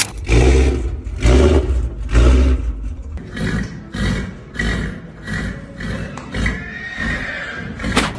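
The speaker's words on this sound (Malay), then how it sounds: "bunyi enjin dia atau bunyi exhaust dia sebenarnya mirip dengan Mustang sebenar" A 2021 Ford Mustang Convertible engine revs in repeated roaring bursts, its exhaust booming close by before settling into a rougher, uneven rumble.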